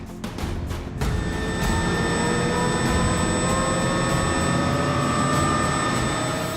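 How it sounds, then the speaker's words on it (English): A military Chinook helicopter and its Apache escort prepare for takeoff, a loud steady engine roar and turbine whine building after a few sharp initial thumps, with no voices. "As the Chinook crew complete their last-minute checks, their Apache escort race to get airborne."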